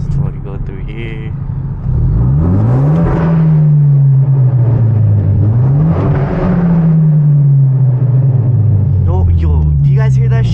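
A Genesis Coupe engine revs hard in neutral inside a tunnel during a late-night drive, with two loud, close rising-and-falling swells that echo off the walls over a steady low rumble.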